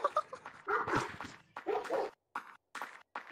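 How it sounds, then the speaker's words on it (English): A dog yips, barks and whimpers in a quick, uneven string of sharp calls with brief silent gaps, fairly quiet and close, with no talking. "What the dog doing?"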